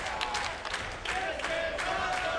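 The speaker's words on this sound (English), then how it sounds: "Listen to the crowd. They're appreciating this as it goes on." A wrestling crowd at a TNA X Division match roars with steady cheering and scattered applause, a dense, continuous wash of many voices and claps with brief swells throughout.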